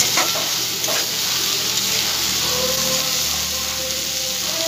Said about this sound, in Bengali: আর 2 থেকে 3 মিনিট একটু ভেজে নেবো, তারপর নামিয়ে ফেলবো।